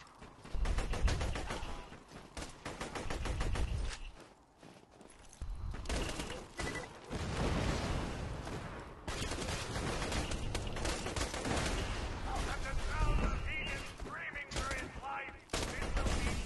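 Rapid bursts of gunfire from rocket-launching guns in Borderlands 2, dense and loud throughout with brief lulls, mixed with game effects.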